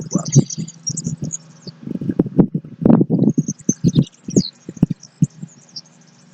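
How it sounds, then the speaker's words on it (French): Birds chirp and tweet in high, scattered bursts throughout an outdoor yoga session, over a steady run of soft, low thumps and murmuring sounds. "Voyez si vous arrivez à percevoir les gazouillis des oiseaux."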